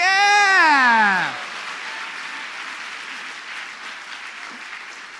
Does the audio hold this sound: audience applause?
yes